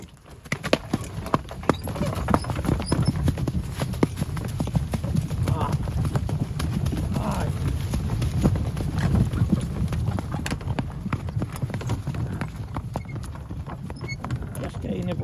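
A heavily pregnant isabelline mare walks with steady, continuous clip-clopping hooves close by, while someone talks over the footfalls and clicks his tongue to urge her on.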